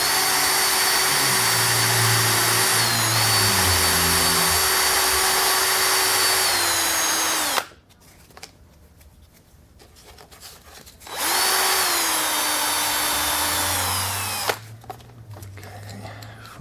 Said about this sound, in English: I have a piece of dowel in the drill